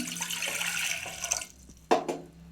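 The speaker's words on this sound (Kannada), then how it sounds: "ಕಾಳು ಬೇಯಿಸೋಕೆ ಒಂದು ಚಿಕ್ಕ ಕುಕ್ಕರ್ ಇಟ್ಟಿದ್ದೀನಿ ಒಂದು ಗ್ಲಾಸಷ್ಟು ನೀರು ಹಾಕ್ತಾಯಿದ್ದೀನಿ" A glass of water is poured into a small pressure cooker, a close splashing gush that lasts about a second and a half, followed by a couple of short sloshes and drips.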